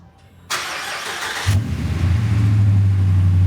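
A 2019 vehicle engine with a newly installed exhaust cranks briefly, catches and settles into a deep, loud, steady rumbling idle, close by with no talking.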